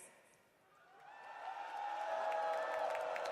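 An arena crowd at the Dota 2 International 2023 cheers for Gaming Gladiators, a faint start swelling into a sustained roar with scattered whoops, distant and steady through the end.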